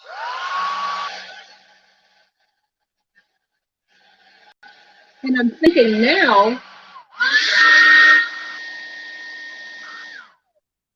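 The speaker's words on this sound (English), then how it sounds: "I'm gonna hit this with this dryer right fast" A hair dryer blows in bursts while drying a craft ornament in a studio, starting and stopping a few times, with a person speaking briefly between the runs.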